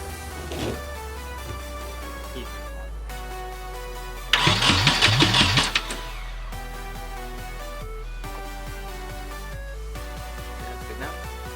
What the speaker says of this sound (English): We're gonna try and crank it first and then start it.